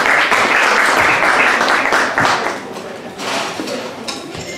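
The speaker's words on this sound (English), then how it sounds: "So I give them a massive round of applause." Big, loud audience applause for a band's performers at a school music event, dense and sustained from start to end, easing slightly in the second half.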